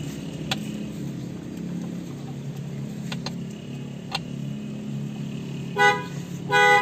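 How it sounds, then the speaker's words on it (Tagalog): A car horn blares as its screws are loosened, two short bursts close by near the end over a steady low hum, with faint clicks of loosening screws beforehand. "bubusina pala talaga siya kapag kaniluwagan"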